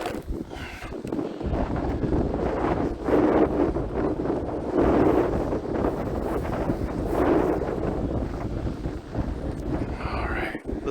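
Strong wind buffeting the microphone in steady, rumbling gusts, with a faint voice underneath.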